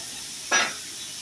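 An egg and cabbage mixture in a pan gives off a short, bright sizzle as it is stirred, a single quick hiss burst over steady low background noise.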